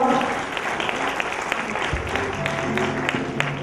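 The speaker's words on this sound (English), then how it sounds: "A loud round of applause one more time" Audience applause at a playschool day celebration, a continuous wash of claps held at an even level from start to finish, with faint voices mixed in.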